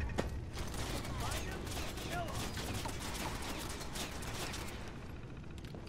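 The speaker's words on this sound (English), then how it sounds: "We just gotta get past these goddamn turrets" Turrets in the game Fallout Anomaly fire a dense, continuous stream of gunshots and mechanical clatter that holds steady throughout, loud and near, with faint game sounds mixed in.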